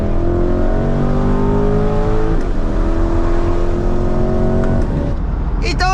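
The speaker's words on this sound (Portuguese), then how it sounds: "Um autêntico V8 aspirado, são 500 cavalos, 65 kg de torque" A Corvette C8 with a 500-horsepower naturally aspirated V8 revs loudly and close, its engine note climbing and falling in repeated sweeping pulls, with a brief higher whine near the end.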